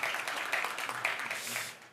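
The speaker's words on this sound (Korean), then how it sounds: "우리 스태프들한테 고생한다고 박수 한번 쳐주세요" A church congregation claps for its staff during a Sunday worship service, a brief burst of applause from the pews that tapers off toward the end.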